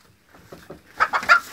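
A hen clucks inside a shed that houses goats and rabbits, a few soft calls at first and then three louder, close clucks in a quick run at the end.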